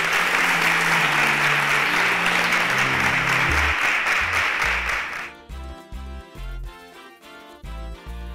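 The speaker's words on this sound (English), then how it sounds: "Give a round of applause for them." A studio audience at a televised youth competition applauds the contestants, loud dense clapping that ends abruptly around five seconds and gives way to a bass-heavy musical sting.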